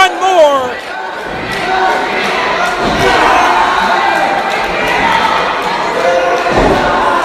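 A wrestling crowd at a citywide championship gauntlet match cheers and roars loudly and continuously, with broad sustained crowd noise, scattered shouts and occasional thuds from the ring, while a commentator's voice talks over it.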